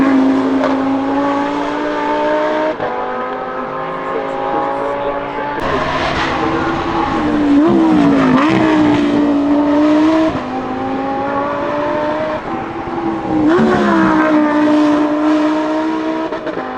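Porsche GT3 race car at the Goodwood Festival of Speed, a loud, sustained engine note that climbs and dips with gear changes and revs, with commentary voices running over it.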